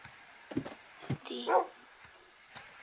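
A few short dog barks and yips, moderately close, with a brief whine in between and quiet pauses.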